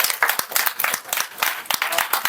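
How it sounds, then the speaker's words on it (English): A short burst of applause from a Toastmasters meeting audience welcoming the next speaker, with several distinct claps standing out from a dense spread of hand-clapping at moderate loudness. "Can we have a round of applause?"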